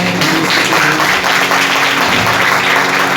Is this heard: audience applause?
yes